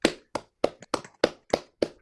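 Slow, evenly spaced claps, about seven in two seconds, sounding like one or two people clapping near the microphone after an online reading event.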